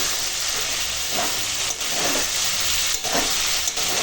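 A ginger-cumin spice paste fries with vegetables and Malabar spinach stalks in a pan, making a loud, close, continuous steamy hiss and sizzle with faint pulsing stirs.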